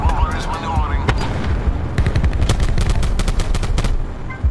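Rapid bursts of automatic gunfire crackle through a Call of Duty: Black Ops 4 multiplayer match, sharp repeated shots in quick volleys with booming low thuds underneath, steady and loud throughout.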